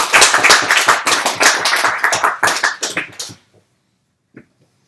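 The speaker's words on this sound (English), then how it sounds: "if there are no questions, you can just clap for me" Scattered audience clapping after a conference talk, a burst of several seconds of uneven hand claps that tapers off into silence, with one faint isolated tap near the end.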